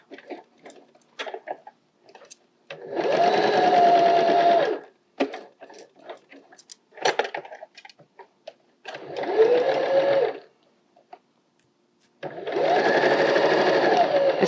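A domestic sewing machine stitches a fabric soft toy in three steady bursts of whirring, separated by pauses filled with small clicks and handling noises as the fabric is pivoted around tight curves.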